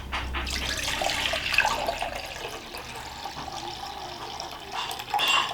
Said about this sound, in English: If we don't have 4 cups, we're just gonna top it off with some filtered water.